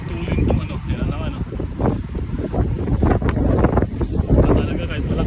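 Strong wind buffets the microphone in gusty, rumbling bursts, with a low motor-like drone and talk faintly underneath.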